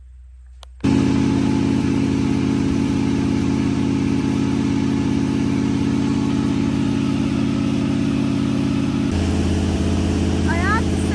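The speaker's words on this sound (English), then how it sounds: "Standing next to a running engine" Running engine on a farm starts abruptly with a loud, steady mechanical drone close by, holding an even rumble before the pitch drops near the end.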